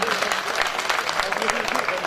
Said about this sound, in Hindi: तालियां कमजोर है अभी भी आपकी